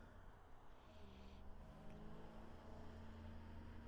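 A car passes on the road near a motorcyclist's bike, a low engine rumble and tire noise swelling gradually, fairly faint and steady with no talking.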